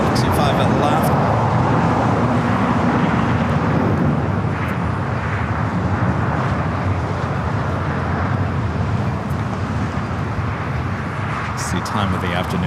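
A Boeing Dreamliner jet airliner at LAX, an arriving flight from Mexico City, gives a steady loud engine rumble throughout, with people talking over it.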